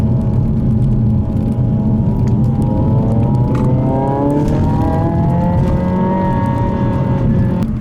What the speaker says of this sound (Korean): 방금 전에는 배기음은 거의 최소로 줄여놓고 문까지 닫은 상태에서 한 거고요